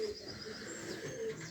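Pigeons cooing inside a loft in Canappeville, soft low coos repeating faintly over a quiet background hiss, with no talking.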